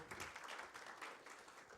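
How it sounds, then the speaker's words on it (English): An audience at a fertilizer organization's rebranding and website launch event claps for its regional director, a brief, faint burst of scattered applause heard from a distance. "A round of applause for our regional director"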